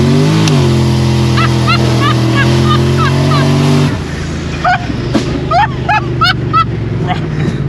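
A 600-horsepower turbocharged Lincoln on nitrous roars loudly as its engine pulls steadily upward, then the tone shifts partway through as it keeps accelerating, with occupants talking over it.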